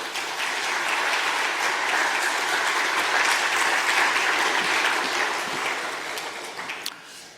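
Sustained applause from a church congregation welcoming a visiting pastor, dense steady clapping that holds for several seconds before thinning out near the end.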